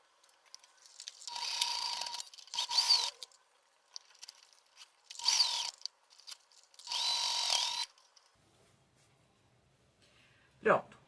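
Stitching a seam on a sewing machine, with several bursts of motor whir separated by short pauses, then stillness and one brief click near the end.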